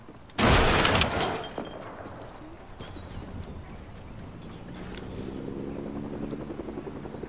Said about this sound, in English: Oh god, there's a chopper.